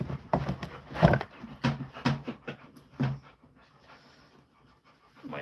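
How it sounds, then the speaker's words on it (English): Dogs panting close by indoors, with quick, heavy breaths in uneven bursts and a soft whimper mixed in, loud at first and then tapering off. "My dogs just started barging in."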